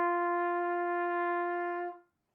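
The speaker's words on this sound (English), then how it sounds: "G is an open note, which means we're not going to press down any of these valves." A single sustained trumpet note, an open G played with no valves pressed, held steadily for about two seconds, then cut off cleanly, leaving silence.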